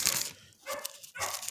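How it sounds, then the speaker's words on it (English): Dogs bark in the background, with several faint yelping bursts coming and going. "don't mind them dogs in the background"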